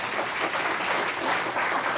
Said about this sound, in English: I'll be glad if we give a clap offering to her as well